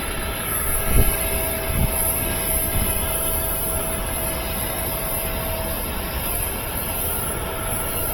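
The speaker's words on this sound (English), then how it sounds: "APU is running, so it's fixing to get loud" A Boeing 777 auxiliary power unit runs nearby, a loud, steady roar with a high whining tone and a constant broadband rush, unbroken throughout.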